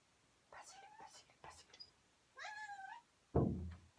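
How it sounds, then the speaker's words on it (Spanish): A pet cat meows several times, soft and close, in a quiet room, followed by a dull thump near the end. "Mi gatita, ¿ya lo oyeron?"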